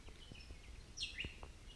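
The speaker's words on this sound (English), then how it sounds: "So we're back in the band of birds again." Faint bird chirps and a short rising-falling call come from the distance over quiet outdoor background, sparse and brief.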